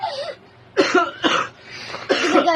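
Several sharp coughs in quick succession, close and fairly loud, with short gaps between bursts.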